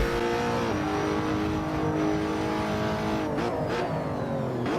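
A race-version car engine revs on a track in a loud, continuous drone, its pitch holding steady, then dipping and climbing again near the end.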